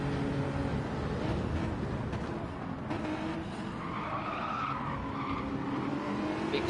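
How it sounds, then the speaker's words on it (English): Racing car tyres skid and slide on a corner exit at Le Mans in a sim racing game, a continuous loud engine roar with tyre scrub rising midway over steady broadband noise, no voices. "Big slide on the exit of the corner."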